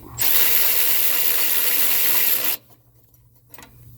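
A power socket tool loosens a bolt in one loud, continuous whirring burst of about two and a half seconds, then cuts off, leaving quiet handling noise.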